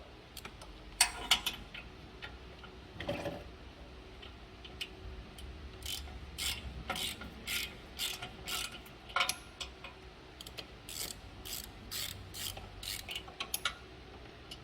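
Quick bursts of ratcheting clicks from a ratchet tightening exhaust bolts on a Daelim XQ250 scooter, coming in short repeated runs with small metallic knocks between them, fairly close and moderately loud.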